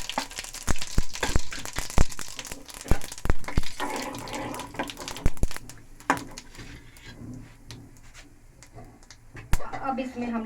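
Cumin seeds and asafoetida sizzling in hot oil in a home kitchen, a steady crackling hiss with sharp pops, loud at first and easing off, with someone talking over it.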